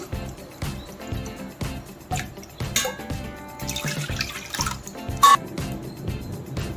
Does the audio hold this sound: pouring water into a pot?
yes